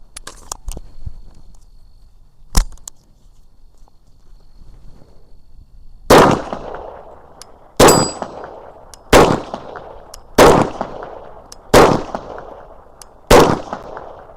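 Glock 22 pistol fitted with a compensator fires six loud, sharp shots at roughly one-and-a-half-second intervals, each a crisp crack with a short ringing decay, after a quieter metallic clack earlier and no talk.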